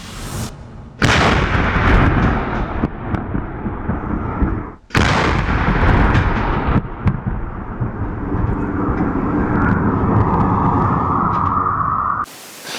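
Loud, booming blasts of Ukrainian artillery cannon fire roar close by on the Donetsk front, each followed by a long rumbling wash of noise that fills the air, with a sharp crack midway.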